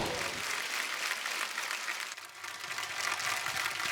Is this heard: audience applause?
yes